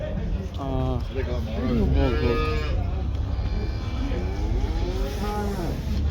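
Cows at a livestock market low repeatedly, long drawn-out moos rising and falling close by, over a steady crowded murmur of people talking nearby.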